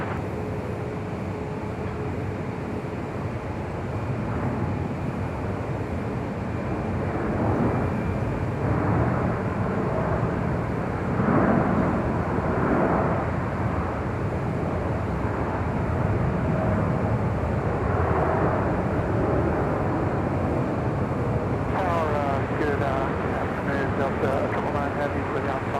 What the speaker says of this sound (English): And over to the north side is at Air France 777-300ER, touching down at 24 right.